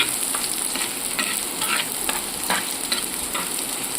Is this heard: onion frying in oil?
yes